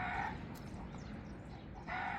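Chickens at a farm, a faint clucking and crowing at the start and again near the end, with a low background rumble and no speech.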